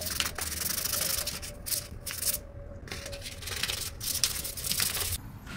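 Sandpaper scuffs over plastic glasses for a Halloween costume, making quick repeated rasping strokes in a close, steady rhythm with brief pauses, and no talking.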